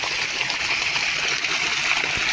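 Steady rushing water pours continuously with a bright hiss, splashing close by without pause.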